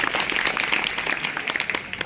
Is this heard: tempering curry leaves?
no